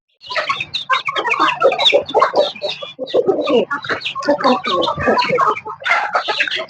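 Native country chickens clucking and squawking almost nonstop, with roosters among them; a dense, busy flock sound, close and fairly loud throughout.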